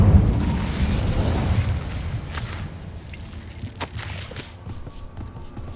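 A fiery burst from the Incendio spell in Hogwarts Legacy opens with a loud, rumbling whoosh that fades over a few seconds, followed by faint scattered game sounds.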